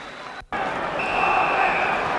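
A stadium crowd of 38,000 at White Hart Lane during a Spurs versus Derby County match gives a sustained roar and applause for a player, dense and continuous after a brief cut.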